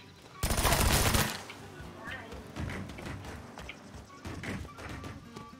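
A loud burst of rapid machine gun fire from the video game Mafia 3 lasts about a second, followed by scattered thuds, impacts and game noise with talk over it.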